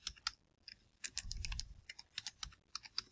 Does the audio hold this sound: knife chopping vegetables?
no